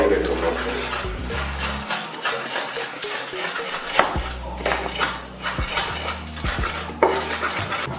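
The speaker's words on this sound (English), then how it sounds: "After minutes of grinding the tomatoes, you can see it's completely mixed with the pepper and the onions" Tomatoes ground together with pepper and onion for banku, heard as rhythmic scraping, knocking and grinding strokes against a bowl, mixed with a low background hum and a voice talking.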